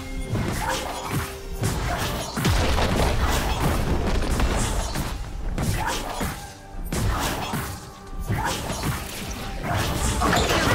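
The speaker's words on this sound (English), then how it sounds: "Red team's turret has been destroyed." A turret collapsing in League of Legends during a mid-lane Cassiopeia versus Aurora match: loud, repeated crashing booms and smashing impacts over dense, continuous game music and effects.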